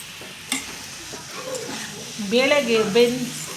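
A spoon scrapes and stirs a tempered sprouted-lentil stir-fry in a pan, with a soft sizzle and scattered clinks beneath a speaking voice.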